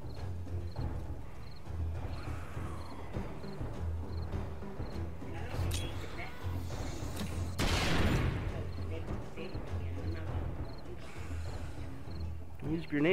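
Video game grenade explosions, one big burst near the middle over a busy bed of gunfire and rhythmic game sounds, with talk woven throughout.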